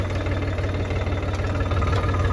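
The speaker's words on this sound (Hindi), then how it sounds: "ट्रैक्टर भी चल रहा है, डीजल भी डल रहा है।" A farm tractor's diesel engine runs steadily while diesel is filled into its tank, making a constant low, throbbing rumble close by with no voices.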